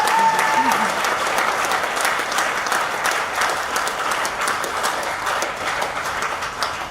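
An audience at a Mi Lifestyle sales meeting bursts into loud, continuous clapping that fills the hall and fades gradually over about seven seconds, with a brief high tone near the start.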